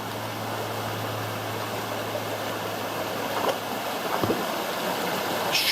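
A creek flows steadily on a bush walking track near Wentworth Falls, a broad even rush of water with a low hum underneath and a few faint knocks toward the end.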